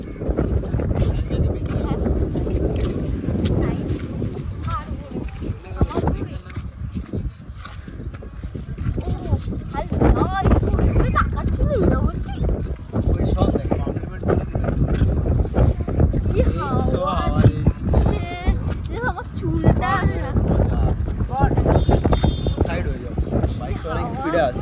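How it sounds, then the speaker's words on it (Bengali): Strong wind buffets the microphone in rough, rumbling gusts while people talk over it continuously, with occasional knocks and clatter. "কি হাওয়া দিচ্ছে, হাওয়া উড়িয়ে নিয়ে চলে যাচ্ছে"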